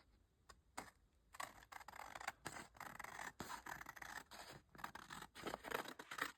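Scissors snip through paper scraps for junk journal sewing pages: a quiet, close run of short crisp cuts and scratchy paper rustles, spaced unevenly with brief pauses, and no talking.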